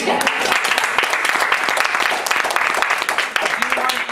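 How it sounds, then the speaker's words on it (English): A crowd applauds at a Well & Company event with two hosts, loud sustained clapping from many hands that never lets up, a few faint voices mixed beneath it. "y'all give us a round of applause"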